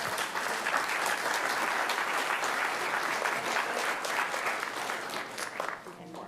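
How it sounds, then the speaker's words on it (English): Steady round of applause from a room of people after an oath-taking ceremony, dense and sustained clapping close by, tapering slightly at the end. "Everybody, please give them a round of applause."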